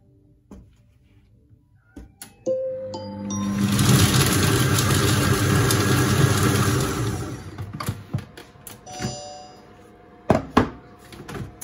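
A Monsieur Cuisine Smart food processor chopping onions at speed 5, running for a few seconds in a loud whirring burst, with clicks and knocks before and after.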